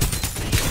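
Gunfire bursts in the Rise of the Legend shooter game, a quick cluster of loud shots in under a second with no talking.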